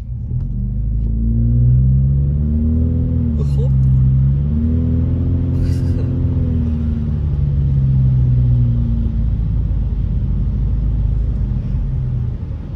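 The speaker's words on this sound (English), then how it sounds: "look at this traffic right here" Cars crawling through snowy traffic in Big Bear Lake, California, a steady low engine rumble with a couple of passing swells, heard close and continuous from inside the stream of vehicles.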